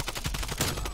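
An AK74U firing in Call of Duty: Black Ops Cold War: a rapid, even burst of about eight automatic shots in one second, close and punchy, with no talk.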